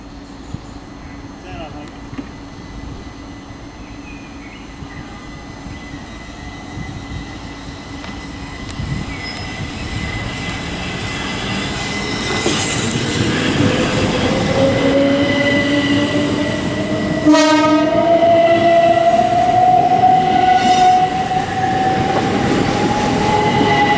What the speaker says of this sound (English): departing now is going to be the 11:50 Southeastern service to Hastings from London Charing Cross